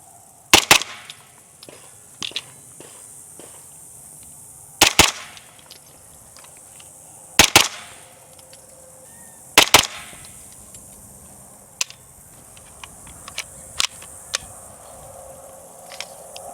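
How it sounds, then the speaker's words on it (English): Sharp, muffled shots from a suppressed 9mm carbine fired into a berm come in quick pairs, several doubles spaced a few seconds apart, each a flat crack with no talking in between. "So let's start with the 9CT. Just double taps into the berm."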